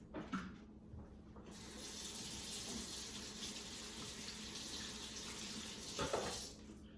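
Water runs steadily from a kitchen tap while hands are washed, a continuous close hiss with brief splashes at the start and end and no talking.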